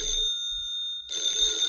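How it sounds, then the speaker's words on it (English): A cartoon telephone bell ringing in two bursts with a short pause between, a bright electric trill heard up close and loud. "Oh, that's the phone."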